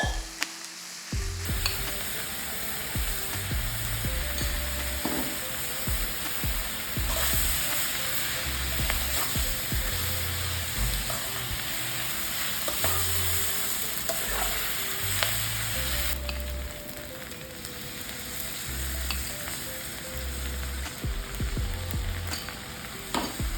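Wide rice noodles for vegan pad see ew stir-frying in a hot pan, moved with tongs, with a continuous sizzle broken by repeated scraping and tossing clatters.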